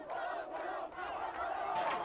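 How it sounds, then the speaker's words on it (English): A crowd at a demonstration outside the UN building in Geneva chants loudly and continuously, many voices rising and falling together in a rhythmic, roaring mass with no break. "A crowd outside the UN building in Geneva chanted their support for President Izetbegovic"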